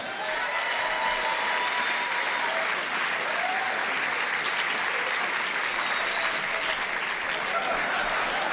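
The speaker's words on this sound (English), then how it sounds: "Round of applause against his puppet, yes." Sustained audience applause for a ventriloquist's puppet at a comedy show, a dense, steady clapping crowd filling the room at constant loudness throughout.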